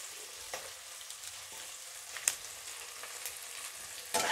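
A steady, gentle sizzle of onions and ginger sautéing in a pan, with occasional soft pops and spatters and no talking.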